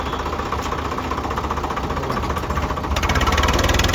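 A 2020-model Swaraj tractor in showroom condition idles with a loud, steady diesel throb and a low rhythmic knock that grows slightly heavier toward the end.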